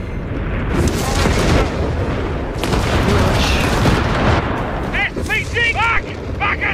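Artillery fire in Company of Heroes 3, dense rolling booms and blasts filling the battlefield, loud and continuous, with game voice callouts breaking through near the end.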